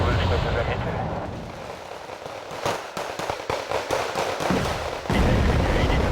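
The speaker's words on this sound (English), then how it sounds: "Enemy artillery is hitting our tanks, trying to blind them." Artillery barrages in the real-time strategy game Wargame: Red Dragon, with clustered booming impacts and crackling blasts landing in quick bursts over a continuous battle rumble, loud and dense throughout.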